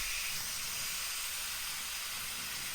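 Onions and burger patties for an Oklahoma onion burger sizzle on a griddle heated over one burner, a steady, soft, close hiss with no talk.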